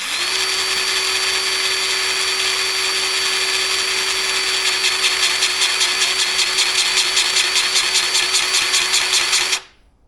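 Bauer 20V electric grease gun motor whines steadily, close and loud, then settles into a fast rhythmic pulsing before cutting off abruptly near the end.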